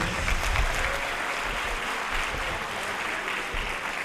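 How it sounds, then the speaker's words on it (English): An audience at an eighth grade moving-up ceremony applauds an art award recipient, a moderate, continuous patter of many hands heard from a distance. "Give a round of applause to our art recipient."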